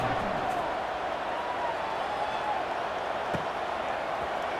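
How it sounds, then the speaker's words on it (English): Steady broad murmur of a stadium crowd in a college football video game, constant and moderately loud, with a few faint thumps and a voice talking over it. "this crowd is buzzing after that last score"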